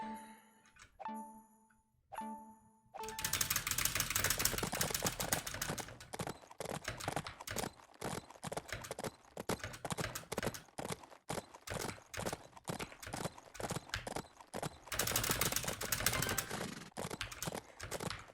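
Rapid, steady horse hooves galloping in the mobile game Adventures with Horses, heard as a continuous clip-clop that runs for most of the stretch after a few short chimes at the start, fairly quiet overall.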